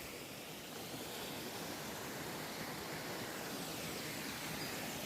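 Waterfall beside a hiking path, a soft, continuous, even rush of falling water heard from a distance, faint and unbroken, with no one speaking.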